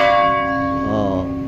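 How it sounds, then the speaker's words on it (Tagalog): Church bell in the belfry of the town church in Tuburan, Cebu, ringing at noon, sustained tonal peals with long overlapping ringing tones, fairly loud and close, heard alone without talk. "Dinig niyo kampana yung 12 o'clock."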